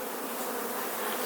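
Dense, steady buzzing of honey bees swarming around full hives, a continuous close drone filling the short moment with no voices.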